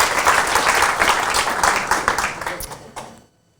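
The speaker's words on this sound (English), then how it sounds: "round of applause for Orla" An audience at a London accessibility meetup claps for a presenter, a dense close round of applause that holds steady, then thins and dies out near the end.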